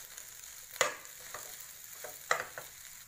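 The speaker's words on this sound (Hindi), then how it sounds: "अब इसको हम मिक्स करेंगे अच्छे से।" A spoon stirs a potato filling mixed with black pepper in a pan, giving two sharp scraping clacks among softer scrapes over a faint background hiss.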